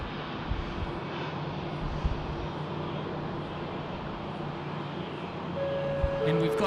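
A Qantas Airbus A330 airliner at Sydney Airport produces a continuous engine rumble that grows a little louder toward the end, joined by a few brief tones and talk over it.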